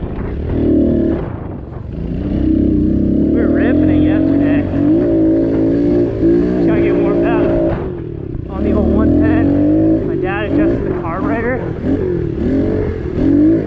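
Pit bike engine riding a dirt track in second gear, a steady buzzing drone that rises and falls with throttle through most of the stretch, with a brief dip near the middle and a voice talking over it.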